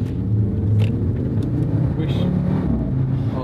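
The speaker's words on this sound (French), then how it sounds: "Le bruit oh l'échappement mon pote, c'est la folie frère." An off-road buggy with a failing transmission roars on a cross track, its engine and exhaust making a loud, steady low rumble throughout, with a voice speaking briefly over it.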